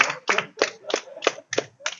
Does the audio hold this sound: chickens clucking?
no